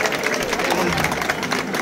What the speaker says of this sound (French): Applaudissez un peu, s'il vous plaît.